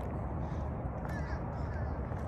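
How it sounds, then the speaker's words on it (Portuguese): Crows caw overhead in a flock, faint scattered calls over a steady outdoor rumble, with light talk nearby. "Olha quantos passarinhos lá em cima,"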